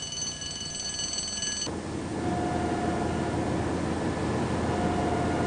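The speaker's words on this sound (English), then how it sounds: "The fire alarm, does it work?" A continuous high-pitched electronic fire alarm tone sounds, then gives way to loud rushing noise with a fainter tone in it. No one speaks.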